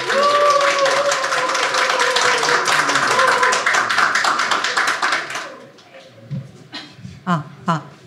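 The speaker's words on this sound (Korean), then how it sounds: "박수로 오시겠습니다" Audience applause at a campaign launch event welcoming a teacher to the stage, a dense wash of clapping for about five seconds that then fades into a few scattered taps.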